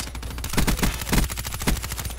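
Rapid automatic gunfire from the XMC weapon in Call of Duty Black Ops 3, with loud, dense bursts of shots that rise and fall in quick clusters and no talking over it.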